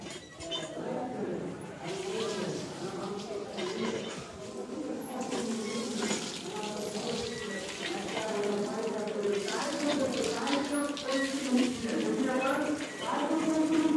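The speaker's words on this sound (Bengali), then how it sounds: "আপনার এই টিউবওয়েলের যে এটা শব্দ, সাউন্ড, এটাকে মিস করছেন আপনারা" A hand-pumped tube well in a Bangladeshi village draws water, with rhythmic squeaking strokes of the pump handle and splashing, gushing water repeating over the whole stretch, fairly close, while people talk.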